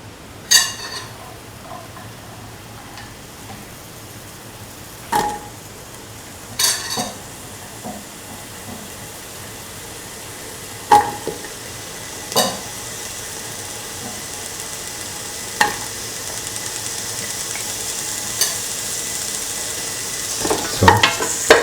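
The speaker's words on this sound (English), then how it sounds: "Now put in the ivy gourd pieces." Ivy gourd pieces fry in a pan with oil and potatoes, giving a steady low sizzle broken by sharp, irregular scrapes and clacks of a spoon stirring against the metal, close by with no talking.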